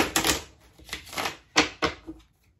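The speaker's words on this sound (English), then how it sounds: "I'm just going to shuffle these just a couple times" Tarot cards shuffled a couple of times, giving several short crisp riffling bursts with quiet gaps between them, close by and without talk.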